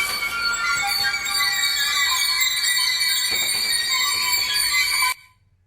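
A processed sample of a squeaky ironing board's squeal forms a sustained, harsh, tonal drone with stacked high-pitched overtones, holding steady for several seconds before cutting off sharply.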